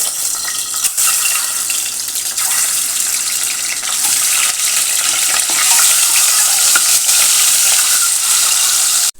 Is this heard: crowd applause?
no